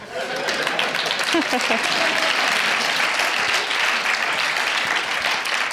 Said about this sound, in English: Applaudissez Won Jong, s'il vous plaît.